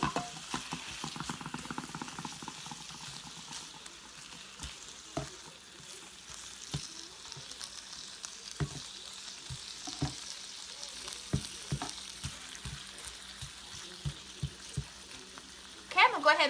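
Bacon cooks in a Range Mate microwave cooker, a soft continuous sizzle studded with sharp scattered pops and spits at irregular intervals, fairly faint and close, with no one speaking over it.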